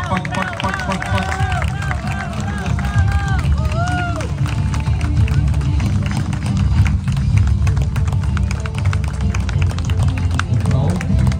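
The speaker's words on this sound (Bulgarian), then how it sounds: "Пак аплодисменти." Crowd clapping and cheering after a record swim down the Danube from Vidin to Oryahovo, a dense steady applause running throughout with voices and shouts mixed in.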